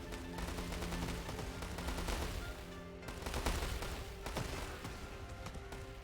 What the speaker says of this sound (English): immediately my hand cannons are just going